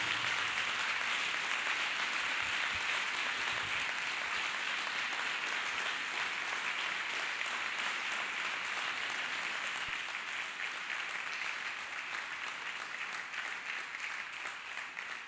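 A church congregation claps steadily together, a dense sustained wash of applause that fills the room from start to finish with no break, at a fairly even level and with no talk over it.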